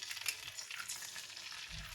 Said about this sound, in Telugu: ఇప్పుడు మనం 2 eggsని క్రాక్ చేసేద్దాము